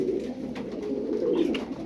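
Pigeons cooing softly and repeatedly, a low throaty warble close by with no talk over it.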